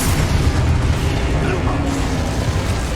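Explosive spell blasts in the Hogwarts Legacy video game roar as a loud, dense stream of booming rumbles, one running into the next, with voices mixed in.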